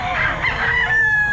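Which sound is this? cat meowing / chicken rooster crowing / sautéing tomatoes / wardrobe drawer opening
chicken rooster crowing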